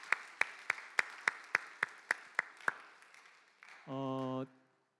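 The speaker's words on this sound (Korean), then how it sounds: "우리 박수로 좀 환영하도록 하겠습니다" A short round of clapping at a church service welcoming visitors, about a dozen sharp claps in steady rhythm, followed by a brief sustained electronic tone.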